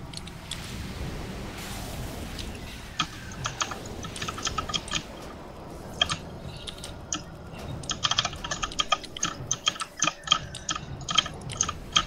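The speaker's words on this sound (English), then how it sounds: "Somebody got a loud keyboard." Loud computer keyboard typing over an online multiplayer shooter voice chat, rapid clacking keystrokes in uneven bursts that grow sharper and more frequent toward the end, heard alone without talk.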